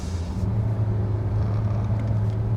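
A SsangYong Korando car cruises on a highway in sport mode, with a steady low engine and road rumble that holds fairly loud and even throughout from inside the cabin.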